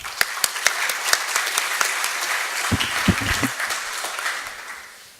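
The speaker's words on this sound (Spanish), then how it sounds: "Los recibimos con fuertes palmas" Audience at an international arbitration congress applauding, a dense steady round of clapping from a hall crowd with a few louder individual claps, brief voice murmurs near the middle.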